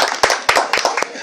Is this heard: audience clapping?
yes